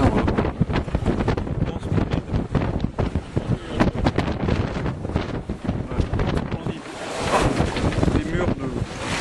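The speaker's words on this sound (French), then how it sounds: "c'est des grosses vagues. Grosses vagues." Big ocean waves surge around a sailboat on the open sea, with heavy wind buffeting the microphone and rushing, crashing water filling the scene loudly and continuously.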